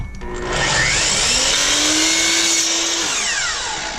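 A miter saw cuts vinyl or laminate flooring T-molding at a 22.5-degree angle, a loud close whine that spins up, bites through the piece for a couple of seconds, then winds down.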